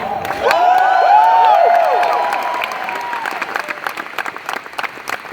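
Sold-out arena crowd at the Forum in Los Angeles applauding and cheering at Call of Duty XP, a dense, loud wash of clapping that swells early then gradually thins toward the end.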